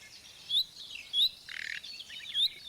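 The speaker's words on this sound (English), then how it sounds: "An outburst of indignation from nearby comes from a reddish-brown bird, stirred into action by an intruder." A male nightingale, a reddish-brown bird with chicks nearby, gives sharp alarm calls at a long-eared owl perched in a bush: four short bright notes spaced across the moment with a brief rasping burst between, close and clear.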